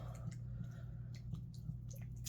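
Sticky gel-like slime is stirred, producing soft wet squishes and little squelchy ticks over a steady low hum.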